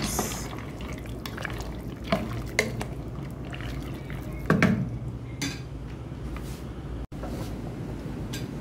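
Milk being poured into a pot of Filipino macaroni soup with carrots and hotdog, a soft liquid trickle mixed with clinks of a utensil against cookware and a few brief knocks.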